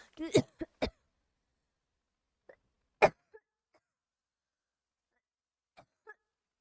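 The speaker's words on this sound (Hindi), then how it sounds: "बीच में खांसी आ गया" Several close, sharp coughs come in a quick burst at the start, then a couple of fainter isolated coughs and throat noises in quiet surroundings.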